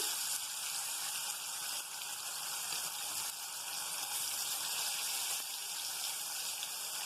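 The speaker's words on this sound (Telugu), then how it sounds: "ఇప్పుడు ఒక్కొక్క చేప ఈ కొద్దిగా ఆయిల్లో ఫ్రై చేస్తున్నాం" Fish frying in a small amount of oil sizzles and crackles steadily and close up, a constant bright hiss with no voices over it.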